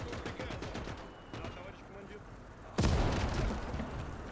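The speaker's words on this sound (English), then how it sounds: "Well, still enemy mortars." Enemy mortar rounds landing in Call to Arms: Gates, a heavy explosive thump late in the clip that rises out of a low rumble of distant battle and scattered small-arms fire.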